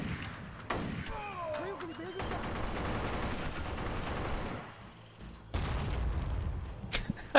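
Dense video game gunfire plays continuously, with bursts of shots and booms layered over game sounds and a talking voice.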